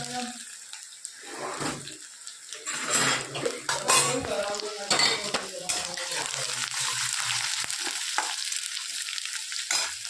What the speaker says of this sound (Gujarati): સિંગ તેલ નાખ્યું છે, જીરું નાખ્યું છે અને એના અંદર આપણે નાખીશું સિંગદાણા અને લીલા મરચાં, થોડા કઢી પત્તા